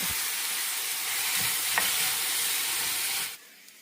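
Chopped tomato, onion and jalapeno sauté in a hot pan with a steady, bright sizzle and hiss that holds for a few seconds and then cuts off abruptly near the end.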